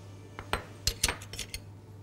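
Utensil scraping and clinking against a bowl while stirring an unbaked mixture for a chocolate coriander tart, a handful of close, sharp metallic taps and scrapes in about two seconds.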